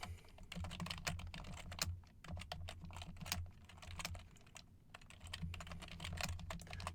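Quiet, rapid keystrokes clatter on a computer keyboard as a message is typed, irregular bursts of clicks with brief pauses, close and soft with no talking.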